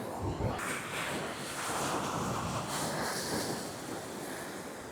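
Sea surf at a beach, a broad rushing wash of waves with wind blowing across the microphone, steady and fairly faint, with no clear voices.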